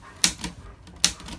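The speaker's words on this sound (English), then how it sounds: "A typewriter. A typewriter." A typewriter clacks with three crisp keystrokes spaced unevenly, close and fairly loud against a quiet room.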